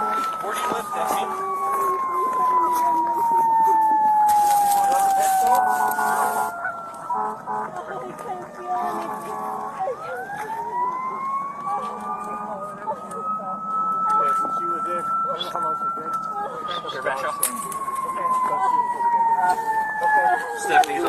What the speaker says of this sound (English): Ambulance is coming, okay?